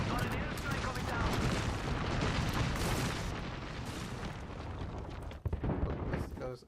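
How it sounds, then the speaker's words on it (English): Rumbling airstrike explosions pound continuously in a Warzone match, a dense, loud barrage of booms sustained throughout, with a sharper burst near the end as a player's voice carries over the blasts. "Got an airstrike coming down."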